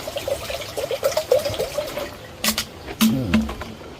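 Water poured and trickling into a big pan for heating wax, a few splashy bursts and dribbles heard close up in a quiet room.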